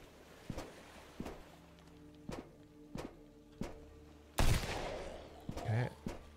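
Sharp gunshots in the survival video game Sunkenland fire one at a time at a steady pace, about six separate reports, then a louder burst of denser impact noise follows near the end.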